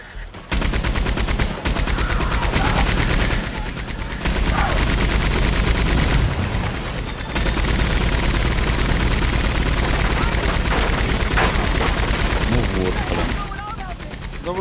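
Machine gun fire in a video game, loud rapid bursts running almost continuously with brief pauses between strings of shots, and a voice speaking now and then beneath the gunfire.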